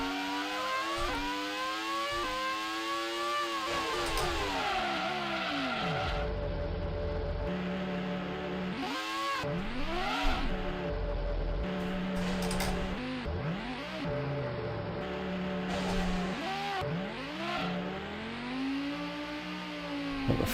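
Ferrari Formula One engine in the Grand Prix 2 racing game, a continuous high-pitched engine whine that rises and falls repeatedly through gear changes and passing cars for about twenty seconds.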